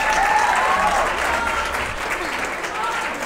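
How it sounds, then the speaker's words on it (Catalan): A studio audience at a Catalan television word-game show claps steadily, a dense, sustained round of applause that fades slightly toward the end. "Aplaudiu-lo per això."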